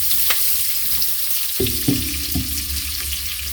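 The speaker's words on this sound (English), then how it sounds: "So I'm gonna saute, guys, stirring for about 3 to 5 minutes" Onion and garlic sauté in a pan for a spaghetti sauce, giving a steady close sizzle with a few knocks and scrapes of stirring partway through.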